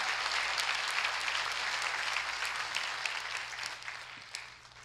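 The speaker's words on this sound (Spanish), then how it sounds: "Alábale con el aplauso más fuerte que le puedas dar, por favor" A church congregation gives a strong, sustained round of applause, a thick wash of clapping hands at an even level that tapers off slightly at the close, with no voices over it.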